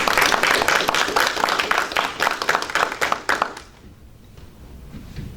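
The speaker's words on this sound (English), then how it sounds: "Let's give them a round of applause." Audience applause for school board members at a county board of education meeting, a dense burst of many hands clapping that fades out after about three and a half seconds into quiet room noise.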